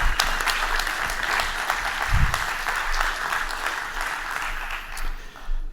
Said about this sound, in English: please give Christian a big round of applause